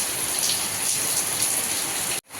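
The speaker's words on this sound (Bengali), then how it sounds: "একটু একটু টিপ টিপ বৃষ্টি পড়তেছে" Continuous hiss of rain falling on surfaces, steady and even, ending abruptly with a short cut near the end.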